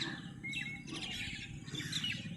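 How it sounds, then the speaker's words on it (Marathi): Wild birds chirp and call in a village setting at Shembal Pimpri, with several short, bright tweets rising over a steady low background rumble, fairly close and without voices. "आमचे पक्षी आले।"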